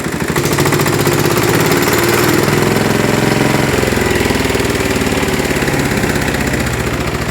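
A heavy walk-behind tractor engine drives a car alternator, running loud and close with a steady hard knocking chug that shifts in pitch partway through as the throttle changes, continuous and without speech.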